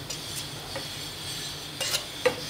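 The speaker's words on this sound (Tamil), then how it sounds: "நெய் ஊற்றி நல்லா கிண்டி விடுங்க. நெய்யெல்லாம் அது உரிகிற வரைக்கும் நல்லா கிண்டிக்கலாம்." Ghee is stirred in a pan while wheat halwa cooks, giving a soft steady sizzle with occasional scraping strokes of a spoon, including a sharper clink near the end.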